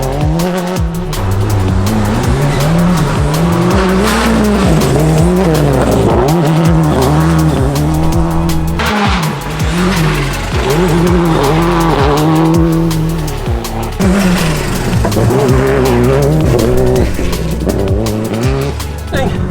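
Loud, close rally car driven hard, engine revving up and down through gear changes with repeated tire squeals and skids, while people talk now and then over the noise.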